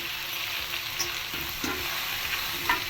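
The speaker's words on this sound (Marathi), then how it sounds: "त्याच्यावर मटण टाकते. ते मटण टाकले." Mutton pieces dropped onto frying onions in a pan for a Lucknowi mutton dish, giving a steady close sizzle with stirring scrapes and small clatters, no voices.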